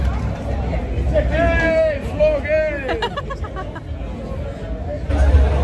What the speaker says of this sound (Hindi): तो भीड़ भाड़ एकदम माहौल बना हुआ है यहाँ पे। यस, तो यहाँ पे आज काफ़ी लाउड है